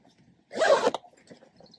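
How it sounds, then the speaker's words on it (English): A zipper on a MYJAQI back seat extender for dogs is pulled shut in one quick, close, rasping zip lasting about half a second, followed by faint handling noises. "And then zip up again."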